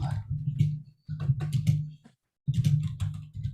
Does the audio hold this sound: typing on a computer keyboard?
yes